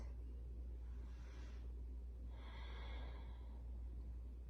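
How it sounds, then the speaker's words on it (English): Two slow, audible breaths during a yoga flow, a softer inhale and then a longer, fuller exhale through the nose, close and unhurried over a low steady hum. "Breathing."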